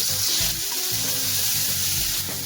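Onion paste fries in hot oil, a loud, steady close-up sizzle and crackle with low bubbling underneath, no voices.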